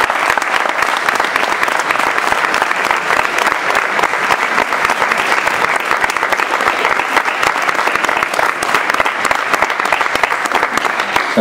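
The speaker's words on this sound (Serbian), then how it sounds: "Jedan ogroman aplauz za njih jer su radili u nemogućim celima." A festival audience claps in a large, dense burst of applause, loud and sustained for over ten seconds, with no speech over it.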